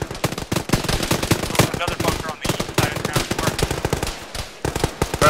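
Sustained machine gun fire in the ShackTac military video game, set in Guyosabir Valley: dense, rapid bursts of shots cracking back to back, loud and close, with only a brief gap in the stream.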